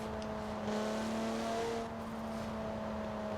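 A stock 2010 car with about 500 horsepower drives in Forza Horizon 4, its engine a steady humming drone with a slight swell in revs midway, heard alone without talk.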